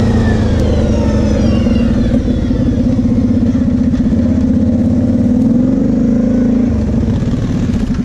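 A Kymco Maxxer 300 Wide ATV engine running close and loud, a steady throaty drone with a slight rise and fall in pitch as it is ridden, no talk.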